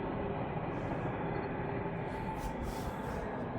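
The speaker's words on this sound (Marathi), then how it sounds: "ही ट्रेन चालली त्याचा आवाज येतोय" A passing train in early-morning darkness makes a continuous low rumble with a steady mechanical roar, moderately distant and unbroken, with no voices over it.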